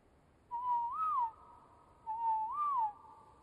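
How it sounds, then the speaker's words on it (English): Two long whistles in the Ark: Scorched Earth survival game, each a steady tone that swoops up and falls away, clear and fairly loud, evenly spaced with a faint echo trailing between them. "Oh, listen to that whistle."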